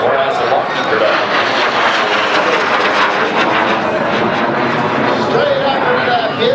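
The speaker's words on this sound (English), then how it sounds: "Canadian version is powered by the Rolls-Royce D10 turbojet" A Canadian-built Lockheed T-33 jet trainer with a Rolls-Royce turbojet performs at the Abbotsford International Airshow, its loud, steady roar filling the whole stretch while an announcer talks over it.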